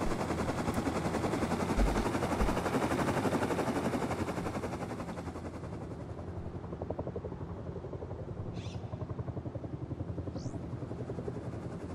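A minicopter in the game Rust flies in and settles down to land, its rapid rotor chop a dense, loud, steady thrum throughout, easing slightly in volume toward the end with a couple of brief whooshing swipes.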